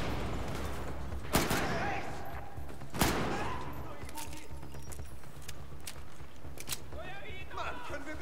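Gunfire from the video game Battlefield 4 crackles in scattered sharp bursts, with a few louder cracks standing out over a low rumbling background while a player talks under the action.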